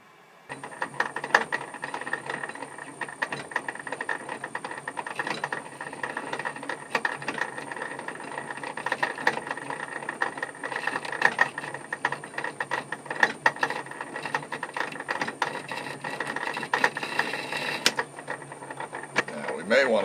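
A Sheldon lathe cuts threads on work held in a 3 jaw chuck, giving a steady mechanical whir with dense ticking and gear chatter that runs continuously, while a voice speaks over it.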